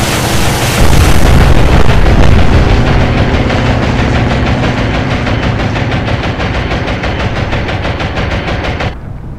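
Explosions from an air strike pounding a warship in the naval game Atlantic Fleet: a loud, dense wall of booming blasts and rumbling impacts that swells early, then continues as a steady churning roar before cutting off abruptly near the end.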